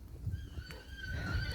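A horse whinnies in the Phobjikha Valley in Bhutan, among grazing donkeys, mules and cattle. It is one long, fairly close neigh with a rising, wavering pitch, heard over faint outdoor background noise with no talking.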